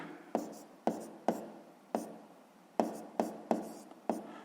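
A pen scratches out a sixth-grade math exercise by hand, producing close, quiet strokes in eight distinct bursts, each a sharp start trailing off, spaced irregularly.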